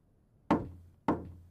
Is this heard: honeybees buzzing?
no